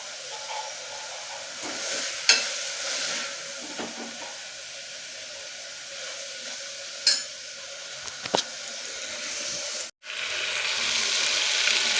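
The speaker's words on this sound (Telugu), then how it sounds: "బఠానీలను మనం బాగా మసాలాల్లో బాగా వేయించుకోవాలి" Green peas fry in a masala in a pan, giving a steady close hiss and sizzle throughout, with a few sharp scrapes and clinks of a spoon stirring them and a brief dip partway through, no voices.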